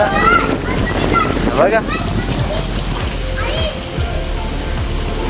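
Heavy rain pours steadily, a dense hiss with splashes and bursts of wind, while faint voices sound briefly.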